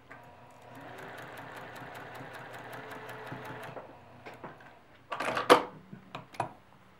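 A sewing machine stitches a blue fabric piece onto a quilt block section. It runs in a steady, moderately quiet hum for about three seconds, then several short clicks and knocks follow as the fabric is handled.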